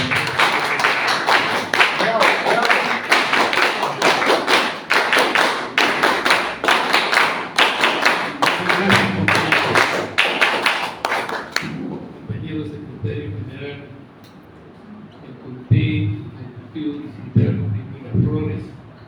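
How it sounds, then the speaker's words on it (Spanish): Audience applause at a political party event closing ceremony: dense, loud clapping for about twelve seconds, then it fades and a voice speaks through a quieter room with scattered thumps. "Fuertes palmas, por favor"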